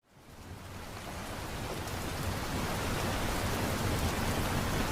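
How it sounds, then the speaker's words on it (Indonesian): Heavy rain falling at night, a steady broadband hiss that swells in over the first second and then holds constant, moderately loud and unbroken, with no voices. "hujan deras turun mengguyur bumi"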